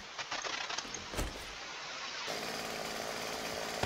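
Chainsaw in the video game 7 Days to Die, a steady buzzing engine drone that starts a couple of seconds in and holds at moderate level, preceded by scattered clicks and knocks.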